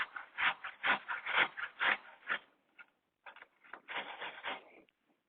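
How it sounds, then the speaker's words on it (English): A peeled, cold cooking apple is rubbed against a grater in rhythmic scraping strokes. A brief pause falls in the middle before the strokes start again. The sound is close and quiet, with no talking. "And then just gently grate it."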